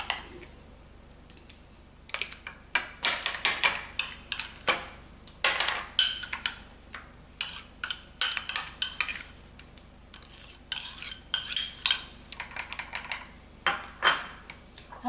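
A metal spoon clinks and scrapes against bowls while sugar-sweetened yogurt is split into three portions, giving a long run of sharp, close taps and clatters in irregular bursts with quiet gaps between them.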